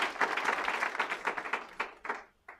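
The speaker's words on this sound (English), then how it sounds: "Please give yourselves a clap." Graduates at a graduation ceremony clap for themselves, a dense patter of hands that holds for about two seconds, then thins into a few scattered final claps.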